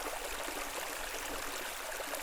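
Fast-moving water on the Ilston River below Ilston village, where the channel runs wider and deeper, rushes in a steady, dense broadband roar that holds even through the whole stretch, close and loud, with no voices.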